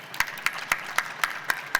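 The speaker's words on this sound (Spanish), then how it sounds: "Un aplaudiment per la Yane" At a Manga Barcelona event, an audience welcomes a Kodansha editor with steady, rhythmic clapping: sharp, evenly spaced claps about four per second, moderately loud and without talk.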